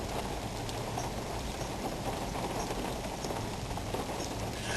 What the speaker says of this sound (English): It's so peaceful in the rain.